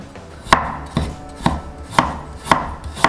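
A kitchen knife slices ginger on a cutting board in six crisp, evenly spaced chops about half a second apart, loud and close with no other sound.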